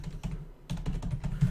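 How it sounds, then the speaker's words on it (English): Typing on a computer keyboard, a quick burst of close, crisp key clicks in an irregular rhythm with a brief pause partway through. "Wow, I'm so bad at typing."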